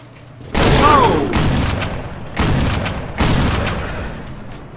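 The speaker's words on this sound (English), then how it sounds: "Man, we're running out of shotgun ammo here." Shotgun blasts from Cabela's Dangerous Hunts 2013, a hunting video game: three loud, booming shots with a sharp onset, spaced a second or two apart, each ringing into a long rumbling tail.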